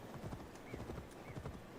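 Horse hooves clip-clop in a steady, quick rhythm in Assassin's Creed Valhalla, close and fairly quiet, with a brief whinny-like tone over the footfalls.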